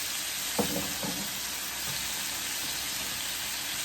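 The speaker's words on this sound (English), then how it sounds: "we can now add our garlic" Garlic sizzling in a hot pan gives a steady, close, bright frying hiss throughout, with a couple of brief knocks of a utensil near the start.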